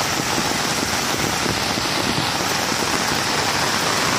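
Early morning rain falls steadily over a village in Nongriat, a loud, dense and even wash of rainfall that fills the whole stretch with no voices.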